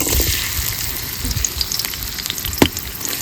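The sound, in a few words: onions frying in hot oil for biryani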